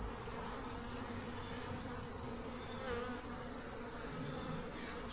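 Honey bees buzzing inside an opened hive being fed to build up numbers, a steady dense hum close by with a faint repeating high chirp in the background, no one speaking.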